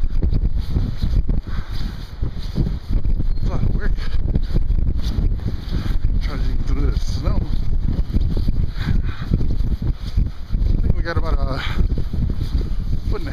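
Strong wind buffets the microphone outdoors in South Dakota in April, a constant loud rumbling roar with gusty fluctuations throughout, while faint talk sits underneath.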